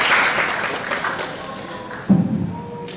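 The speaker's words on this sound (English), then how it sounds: "Let's give her another round of applause" Scattered applause from an audience at an international educators convention, fading out over a few seconds, followed by a single thump and faint room noise.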